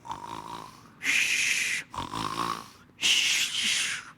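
A voice imitates loud snoring, two drawn-out rasping snores with quieter breathy intakes between them, close and exaggerated.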